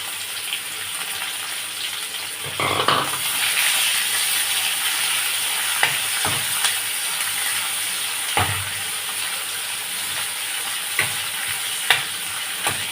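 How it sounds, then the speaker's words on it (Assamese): Chopped onions sizzle steadily in hot oil in a pan with bay leaves, cinnamon, cloves and cardamom, a continuous close frying hiss broken by occasional stirring clatters. "এতিয়া পিঁয়াজখিনি ৰঙা হোৱালৈকে ভাজি ল'ম।"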